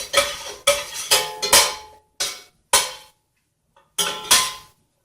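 Ramen ingredients stirred in a hot metal pot, heard as sharp, separate clanks of a utensil striking the pot, about seven in irregular bursts with short silences between, close and without talk.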